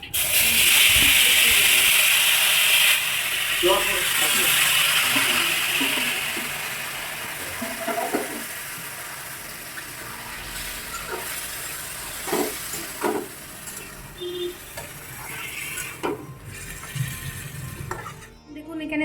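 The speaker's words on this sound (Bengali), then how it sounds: "এই চাল কুমোরগুলো ঢেলে দেবে" Ash gourd pieces hit a hot pan and set off a loud hissing sizzle that slowly fades into quieter crackling and stirring clatter.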